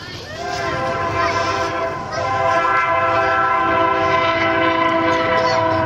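A loud train horn blares in a long sustained tone over the rumble of a passing train, steady and close.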